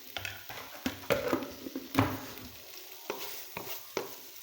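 Grated carrots are roasted and stirred in a tablespoon of desi ghee, soft sizzling broken by scraping strokes of a spoon against the pan, close and fairly quiet with no speech.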